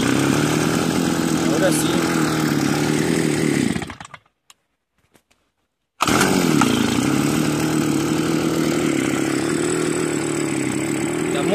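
A Homelite brush cutter's two-stroke engine roars loudly and steadily, cuts out to near silence for about two seconds, then starts again and keeps running at high speed; someone speaks briefly over it.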